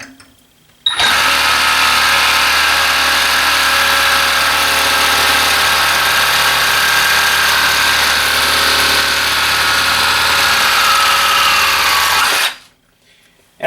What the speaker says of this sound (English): Next, I'm going to use a metal cutting blade to cut through some 3/8-inch diameter threaded rod.